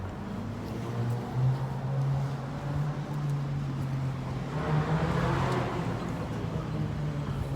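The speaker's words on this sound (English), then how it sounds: "I think that loud engine sound over there that's pulling up to the intersection right now" A loud car engine pulling up to an intersection, a steady low droning rumble heard from some distance amid faint roadway noise, with no talking.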